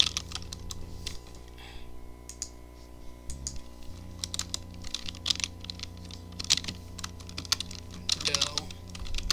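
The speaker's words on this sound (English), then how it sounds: "let's just type them in" Typing on a computer keyboard, a close, steady run of quick key clicks in uneven bursts, with occasional harder taps over a faint background hum.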